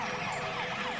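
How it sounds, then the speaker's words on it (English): A cartoon police car siren wails in rapid repeating up-and-down sweeps, loud and steady over a low rumble, with no voices. "Turn on your siren and rush to the stadium."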